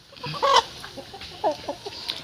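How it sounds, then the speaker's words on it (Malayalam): On a small farm, a native hen and a fighting rooster give a few short, close clucks in irregular bursts over quiet background noise. "ഒരു സാധാ നാടൻ കോഴിയും ഒരു പോരുകോഴിയും ഉണ്ട്"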